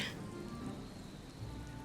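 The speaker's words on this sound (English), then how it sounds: "Did it finally stop raining?" Rain in the video game Disney Dreamlight Valley falls as a soft, steady patter, faint and continuous throughout the moment, with no talking.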